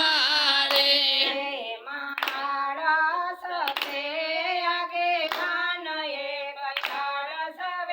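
Sharp hand claps struck in a slow, steady beat about every second and a half, cutting through a woman's sung Gujarati devotional kirtan that carries on throughout.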